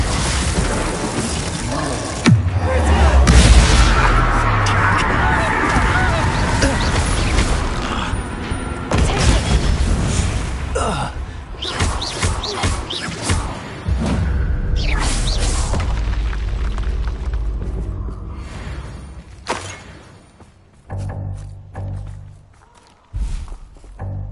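Gameplay from Hogwarts Legacy with the Incendio fire spell cast amid loud booming impacts, thuds and mechanical rumbles, a dense, continuous barrage of game effects that eases into sparser hits toward the end.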